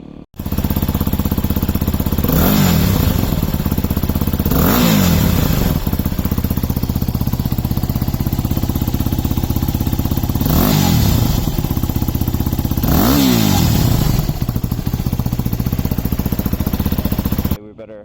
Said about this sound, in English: I might actually put in a little snippet here of what the bike sounds like.